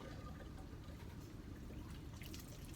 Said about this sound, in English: give another rinse with tap water